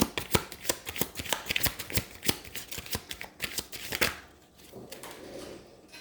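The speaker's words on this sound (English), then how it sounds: "These cards keep flying on the floor for some reason." Tarot cards shuffled in quick, crisp riffling bursts that click and flutter close by, then a quieter stretch of soft handling near the end.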